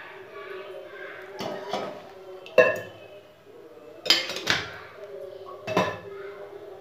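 Metal pots and utensils clink and clatter in a home kitchen as oil goes into a heated pan for mutton curry, with several sharp knocks spaced over a few seconds against a quiet background.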